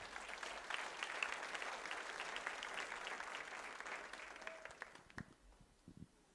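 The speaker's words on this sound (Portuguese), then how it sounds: "Vamos aplaudir ao Senhor" A church congregation claps steadily for several seconds, then the applause thins out to a few scattered, fading claps.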